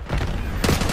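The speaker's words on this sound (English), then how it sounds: "They're shooting from behind." Rapid bursts of automatic gunfire from behind the player in the Black Ops 6 multiplayer shooter, loud and close with a heavier burst near the end, no talk over it.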